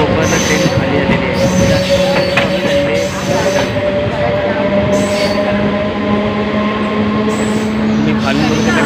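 A train runs along railway tracks in the Konkan region, a steady loud rumble of wheels with squealing and rattling throughout, close by, with voices faintly mixed in.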